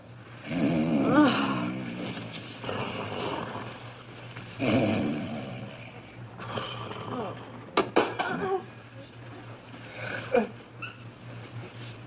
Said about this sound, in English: I was snoring again, wasn't I?